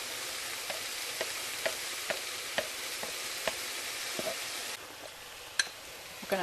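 Sliced fresh mushrooms, half a pound, go into a pan of sautéing vegetables for pasta primavera: a steady faint sizzle under sharp, regularly spaced stirring clicks, then the frying noise drops and a few closer clatters follow.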